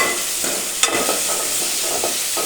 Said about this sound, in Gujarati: આ રીતે તેલમાં બરાબર ટામેટાને પણ સાંકળી લઈશું